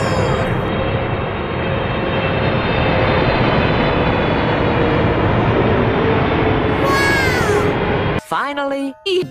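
A cartoon airplane roars past with a loud, steady engine drone, followed by voices and a few abrupt, choppy sounds near the end.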